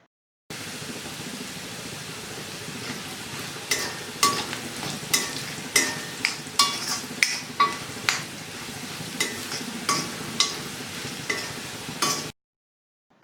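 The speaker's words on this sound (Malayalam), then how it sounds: "നമുക്ക് സ്റ്റവ് ലോ ഫ്ലെയിമിൽ വെച്ചിട്ട് പാവക്ക നന്നായിട്ട് ബ്രൗൺ കളറായി വരുന്നവരെ വറുത്തെടുക്കണം" Bitter gourd pieces fry in oil over a low flame until brown and crisp, with a steady crackling sizzle and a regular run of spatula clinks from stirring, all close by.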